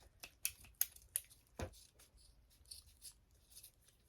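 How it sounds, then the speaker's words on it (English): Scissors snipping through packaging during a toy clean-out of pop-its, fidgets and plush toys: several sharp, quiet snips spaced about every third of a second, then a louder thud, with faint rustling after. "Here we go with these scissors again."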